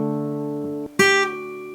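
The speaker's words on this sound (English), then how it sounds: "you pluck the 1st string and you take off your pinky" A sustained guitar note cuts off, then the open first string rings out sharply as the pinky pulls off, leaving a clear note that slowly fades.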